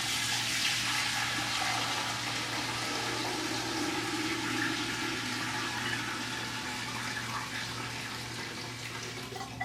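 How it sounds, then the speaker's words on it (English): Bone broth stock pouring through a sieve into a cooking pot in a home kitchen, a steady, fairly loud liquid rush and splash that runs throughout without pause or speech. "we need to pour this stock through a sieve into the pot here"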